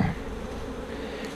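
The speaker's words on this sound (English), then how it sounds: "I'm gonna let these bees rob these out." Honey bees robbing honey from extracted frames set out in the open make a soft, continuous buzzing hum, faint and steady throughout with no talk.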